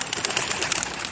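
Bird calls ring out in a steady flurry of bright, chirping tones, close and fairly loud, with no talking over them.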